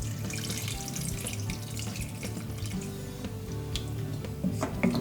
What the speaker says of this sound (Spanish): Cubrimos con agua.